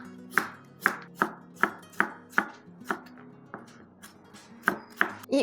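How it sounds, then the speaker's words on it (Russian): A knife cuts a cucumber into julienne strips on a board, about a dozen sharp, evenly paced chops, close and clear, with no talking. "Огурец нарезаю соломкой."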